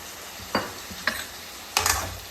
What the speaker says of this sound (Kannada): ಈ ಬದನೆಕಾಯಿ ಎಣ್ಣೆಯಲ್ಲಿ ಚೆನ್ನಾಗಿ ಫ್ರೈ ಆಗಬೇಕು